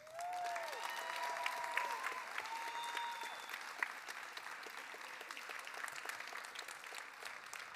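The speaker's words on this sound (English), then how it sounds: "please give a round of applause for Giselle Berg" An audience at a high school graduation ceremony applauding a student, a steady spread of clapping heard at a distance, faint and even throughout with some whistle-like tones near the start.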